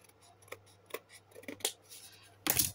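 Scissors snipping paper while making a junk journal: a few crisp, close cuts come one after another at an uneven pace in a quiet room, ending in a louder final snip.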